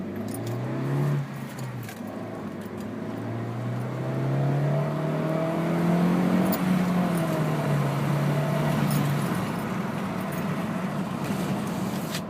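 A 2012 Honda Fit Sport with a manual transmission driving on the road, heard from inside the cabin as a steady road and tire rumble under an engine drone that rises and falls with shifts and acceleration, with no talking.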